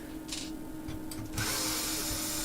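A power screwdriver spins out screws from an Alpine car amplifier's casing: a faint whir, then a louder steady buzzing run over a constant background hum, close up, with no talk.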